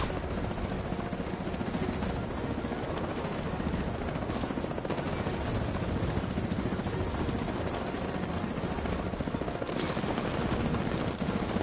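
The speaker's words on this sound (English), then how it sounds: "Quadcopter detected." A quadcopter drone from the game The Division 2 drones steadily overhead, a continuous buzzing whir that stays even and loud throughout, with faint pops of distant gunfire in the background.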